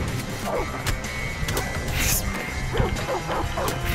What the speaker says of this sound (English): Kicking the dog.